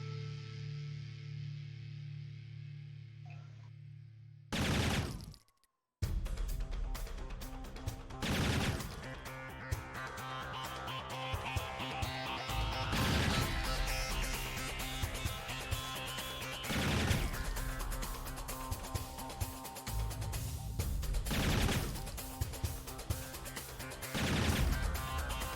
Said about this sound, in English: That machine gunner is merciless. He's actually eliminating every one of them one by one.